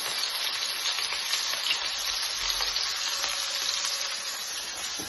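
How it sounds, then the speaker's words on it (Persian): Sauce for a leek dish bubbling and sizzling in a pan, a steady, close crackle and hiss with no one speaking. "اینجا سس ما داره میجوشه"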